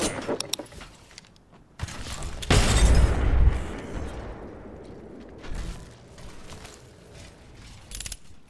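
A frag grenade goes off in the Apex Legends video game: a loud, deep boom after a few mechanical clicks and rattles, its rumble slowly fading into quieter game sounds.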